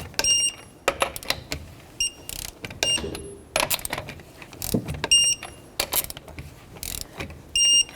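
A torque wrench tightens the wheel lug nuts on a 2006-2012 Toyota RAV4 to 76 foot-pounds, working in a star pattern. It produces close, sharp metallic ratchet clicks and clunks in irregular bursts with short pauses between them.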